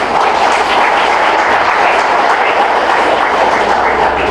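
Dense, sustained clapping from a large audience at a Wildlife Week 2021 event in the Andaman islands, steady and loud throughout with no pauses.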